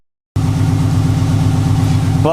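Close, loud and steady idle from a 500 HP Subaru WRX engine, an even rumble that starts abruptly and holds with a slight rise at the very end.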